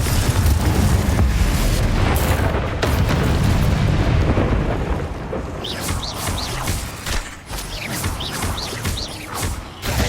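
Confringo blasting spell in the Hogwarts Legacy video game, a loud rumbling explosion with crackling debris that roars for several seconds, then gives way to a quieter fizzing, clattering tail.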